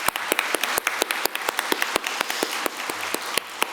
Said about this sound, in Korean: 우리 은퇴하시는 두 분 장로님께 다시 한번 축복의 박수 하도록 하겠습니다